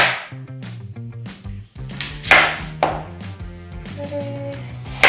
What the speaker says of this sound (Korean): 타르트를 시작하기 전에 위에 데코레이션하는 사과를 잘라서 레몬즙이 담긴 물에다가 먼저 담가서